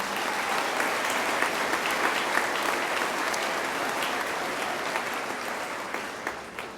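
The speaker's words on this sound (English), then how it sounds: "Please recognize and applaud our senior leadership team tonight." An audience at a college graduation ceremony applauds steadily, a dense even wash of clapping from a large crowd that carries on throughout and fades slightly at the end.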